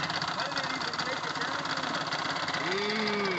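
A car engine with black, oily coolant runs at idle with a steady mechanical knock under its drone, while a voice talks over it and a rising whine appears near the end.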